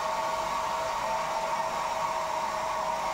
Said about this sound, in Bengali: এটাকে ড্রায়ার দিয়ে এবার শুকিয়ে নিচ্ছি।